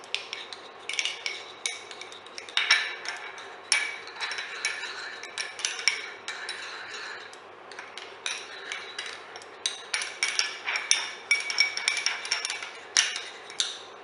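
Sugar and water being stirred in a container, a series of light clinking taps of utensil against vessel repeating irregularly at close range, with no voices.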